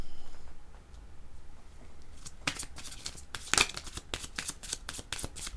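Oracle cards shuffled by hand for a reading: after a quiet start, a run of quick, papery riffles and soft slaps builds from about two seconds on, close and fairly loud, with no voices.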